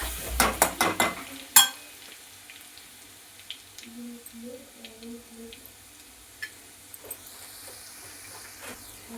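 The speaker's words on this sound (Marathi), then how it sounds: "याच तेलात आता आलं लसूण पेस्ट टाकायची. आलं लसूण पेस्ट टाकलेली चांगले हलवून घ्यायची छान." Ginger garlic paste drops into hot oil and is stirred, starting with sharp clattering scrapes of a spoon against the pan, then settling into a faint, soft sizzle with occasional light stirs.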